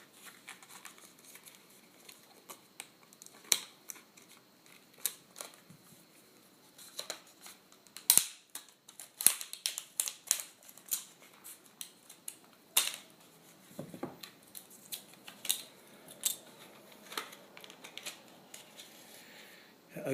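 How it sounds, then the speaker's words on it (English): Scissors cut open the plastic packaging around Acer laptop RAM, giving scattered quiet snips and crinkles of plastic at irregular intervals, with busier handling toward the middle. "Let's cut into this plastic, open it up, put all the rubbish out of the way."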